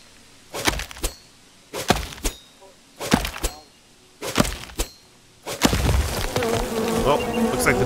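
Bees buzz around a tree in the video game Len's Island, a steady insect drone under sharp repeated thunks, like chopping wood in regular bursts, with busier rustling near the end.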